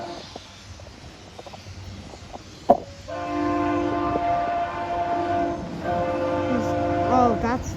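A VIA Rail passenger train, train 63 from Montreal, approaches with long sustained horn blasts sounding over a steady rumble, one break between blasts and a final bend in pitch as it draws near.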